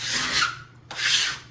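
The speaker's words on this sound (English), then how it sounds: "So I'm just going to scrape my bench." Two rough scraping strokes, each about half a second, with a brief pause between them, close and fairly loud, as a scraper is dragged across a floury bench while making naan dough.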